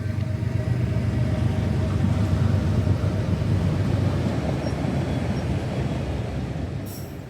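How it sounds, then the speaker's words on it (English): Two freight locomotives, an ES44AC and an AC44CW, haul a unit autorack train south along a main line in Taylorsville Metro Park, Ohio, making a steady, close, continuous rolling rumble of wheels and cars. "ES44AC number 856 and AC44CW number 163 pull a unit auto rack train south on the main line"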